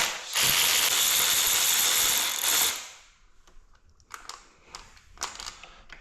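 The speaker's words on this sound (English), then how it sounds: "Next up, we have 3 Allen 5mm bolts to take out to get to the front sprocket." A ratchet wrench loosens 5mm Allen bolts on the front sprocket of a Yamaha R1 motorcycle. A loud, close, continuous ratcheting whir lasts a few seconds, then gives way to scattered lighter clicks and taps.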